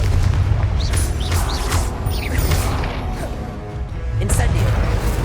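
Confringo, an explosive fire spell in the Hogwarts Legacy video game, lands in a series of heavy booms and crashing impacts amid swooshing spell effects, loud and close, with shouted incantations over the combat noise.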